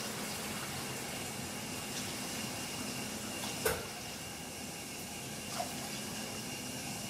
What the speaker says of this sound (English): Right around 800 grams of water in there